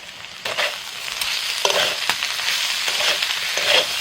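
Potatoes fried with spices, green chillies and ginger-cumin paste sizzle close and steady, with several scraping stirs of a spatula against the pan.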